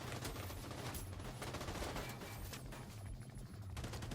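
Sustained automatic gunfire in The Division 2 video game, a dense continuous fusillade of rapid shots at steady loudness throughout, with no talk.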